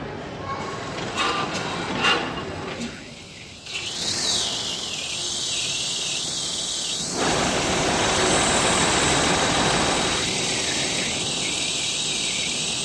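A 1914 Rolls-Royce Alpine Eagle aero engine running, a steady rumbling drone with a bright whine that rises and falls in pitch as it revs, sustained throughout.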